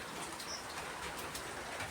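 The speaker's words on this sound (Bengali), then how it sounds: "প্রচণ্ড জোরে জোরে বৃষ্টি পড়ছে।" Heavy rain pours steadily, a constant dense hiss with no pauses, and a faint bird call comes through briefly.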